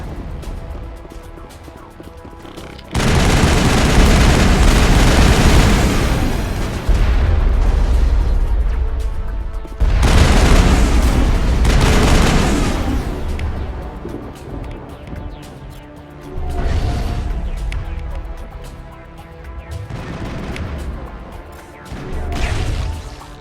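Heavy gun in the Mass Effect game firing in loud booming blasts, several long roaring bursts with pauses between them, close and dominant with no talk.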